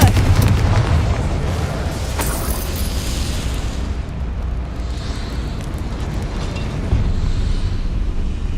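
A Confringo fire spell blasts in the Hogwarts Legacy video game, a loud booming explosion with a crackling, rumbling burst that stays dense and sustained throughout.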